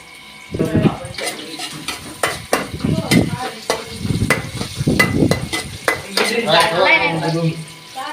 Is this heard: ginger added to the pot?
yes